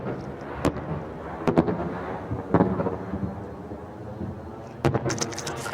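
Fireworks set off from two ships at a Swiss national birthday celebration thud and crackle at a distance, with several sharp bursts standing out over a continuous rumbling wash and faint background murmur.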